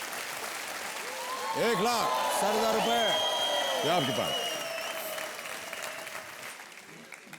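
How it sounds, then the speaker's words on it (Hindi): Sustained studio audience applause on a TV quiz game show, a steady wash of clapping that swells and fades while a host talks over it and music tones ring out. "और तालियां बजती रहनी चाहिए"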